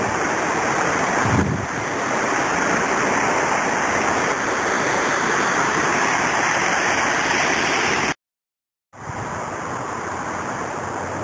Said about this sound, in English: it looks like quite a raging river here going under that street.